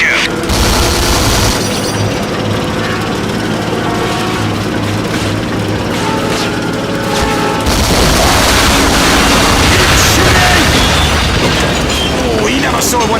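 Explosions from destroyed supply lorries in the 2004 video game Call of Duty: Finest Hour, heard as dense, continuous battle noise with repeated booms and gunfire that grows louder and harsher partway through.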